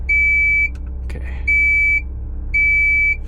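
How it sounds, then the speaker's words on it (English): Warning beeps from a Cat 966K wheel loader with major issues, three long steady electronic tones evenly spaced over a low engine idle, with a brief clunk between the first two. "Oh, this beeping. Here comes the beeping"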